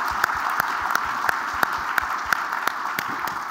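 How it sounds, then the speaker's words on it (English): Sustained applause from a crowd, steady and dense clapping with a few sharper claps standing out, continuing evenly throughout. "join me in a round of applause"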